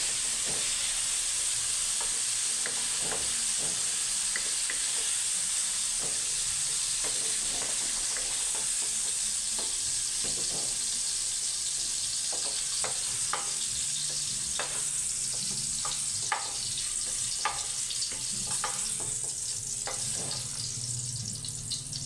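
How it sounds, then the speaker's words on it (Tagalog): Potato and carrot pieces fry in a pan, a steady close sizzle of hot oil with scattered scraping and stirring clicks throughout, no voices. "Asin muna natin ang ating piniritong patatas at carrots."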